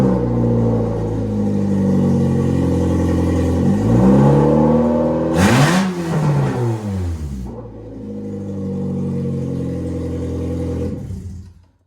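A manual racecar's engine, started with a pair of pliers, idles and then revs up and down in rising and falling sweeps with a sharp mid-clip surge, loud and close before cutting off.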